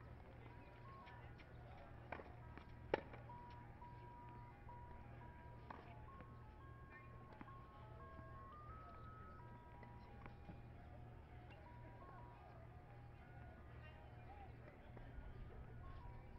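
A distant ice cream truck plays its tinkly melody over and over at a high-school sports match, steady and faint beneath a constant low hum, with no voices over it.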